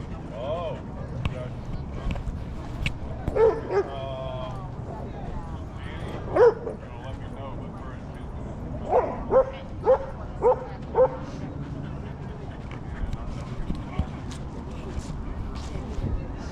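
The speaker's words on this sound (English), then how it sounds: "it's the fast poodle" A poodle at a park lets out a series of sharp barks and high yips, several clustered in quick succession, while people chat nearby and a faint whimper shows up early on.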